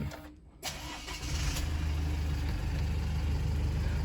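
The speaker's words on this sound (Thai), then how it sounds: "ระบบการสตาร์ทที่เป็น Engine Start Stop" A 2018 Isuzu D-Max Hi-Lander 1.9 pickup truck engine turns over by push-button start and catches, then settles into a steady, close idle with a low rumble.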